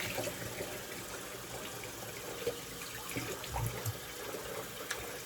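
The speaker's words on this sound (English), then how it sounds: "Do a final rinse." Running tap water flows steadily into a sink while a razor is rinsed after a shave, a soft, continuous splash with a few faint clinks, fairly quiet and without talk.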